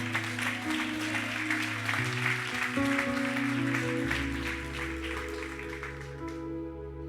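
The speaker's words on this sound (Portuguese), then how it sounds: "Vamos aplaudir o Senhor?" Applause for the Lord at a church service rises over sustained organ or keyboard chords, with clapping across the congregation that fades as the music continues.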